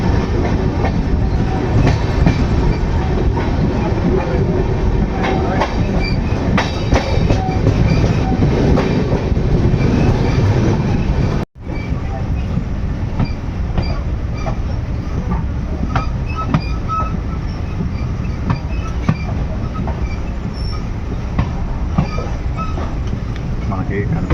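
A passenger train bound for Katra runs on rails with a steady loud rumble and clickety-clack of wheels throughout, briefly cut once in the middle.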